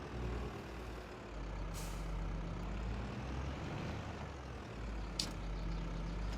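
A truck in the video game Farming Simulator 22 idles with a steady low engine rumble, and two short hissing bursts of its air brake rise above it.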